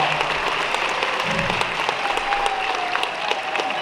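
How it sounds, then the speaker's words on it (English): A large convention audience at the Megaplex 2024 closing ceremony fills the hall with sustained, dense applause, steady and loud throughout, with a few scattered cheers mixed in. "Give yourselves a round of applause."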